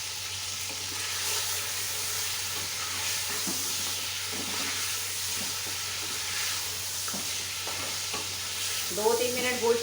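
Mutton pieces stir-fried in a pot for nihari, giving a steady broadband sizzle with intermittent scraping stirs throughout, close and moderately loud, with a brief clatter near the end and no talking.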